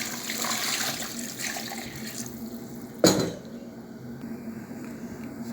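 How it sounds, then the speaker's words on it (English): Water poured from a tap into a cooking pot of chicken being prepared for party fried rice, a steady running splash through the first half, then a brief sharp clatter near the middle and a quieter hiss afterward. "So I'm going to be adding water now."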